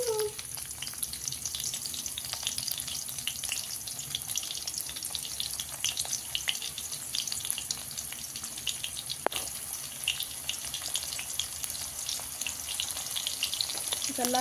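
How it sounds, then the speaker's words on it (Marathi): Onion fries in hot oil with a steady, crackling sizzle that keeps up through the whole stretch, with a few soft clinks of stirring. Faint talk can be heard now and then. "नंतर त्याच्यामध्ये आता कांदा टाकून घेऊया."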